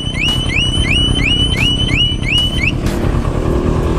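A wireless keyless car alarm gives about six quick rising chirps in an even rhythm and then stops, loud and close over a rumbling engine.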